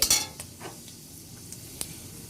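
Dried red chillies, panch phoron and a bay leaf fry in hot oil with a soft crackle, a few light clinks of a spoon against the pan standing out over a quiet background.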